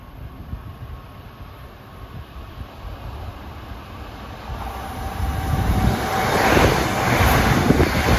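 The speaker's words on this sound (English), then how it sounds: "Approaching eastbound at 8:05 is train 1914. Penn Station to Ronkonkoma with M9s." An LIRR commuter train of M9 cars approaches eastbound at Carle Place on a triple-track line, a broad rumble and wind roar that swells steadily louder as it nears.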